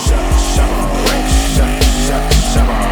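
A car drifts around a track, loud squealing tires and a revving engine pulsing in quick repeated bursts, close and alone with no talking.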